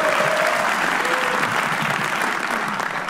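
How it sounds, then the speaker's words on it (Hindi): A live comedy-roast audience breaks into sustained applause for comedian Solanki: dense, steady clapping from a large crowd that fills the whole stretch and fades slightly toward the end. "सोलंकी के लिए तालियां बजा दो आप लोग"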